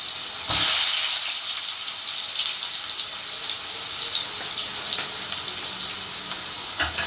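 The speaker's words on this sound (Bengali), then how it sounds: "তেল গরম হয়ে গেছে এবার ভেজে নিচ্ছি আলুগুলোকে আগে" Potatoes fry in hot oil in a wok, giving a steady, close hiss and sizzle with a sharp burst of spattering as they drop in and light crackles throughout.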